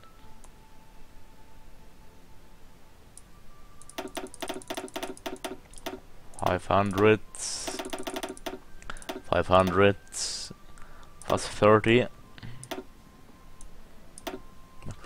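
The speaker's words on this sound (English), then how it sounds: "Clicking way too fast." Rapid bursts of mouse clicks and keyboard taps while playing Hearts of Iron IV, coming in quick clustered runs with brief pauses, under intermittent talk from a man.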